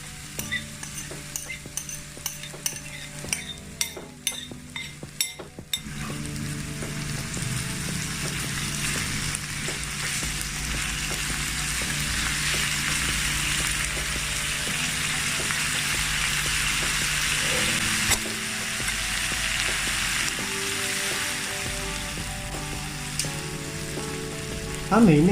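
Vietnamese lemongrass chicken wings fry in sauce in a pan with a steady close sizzle. Early clinks of utensils and stirring give way to a continuous hiss that lasts throughout, with no talking.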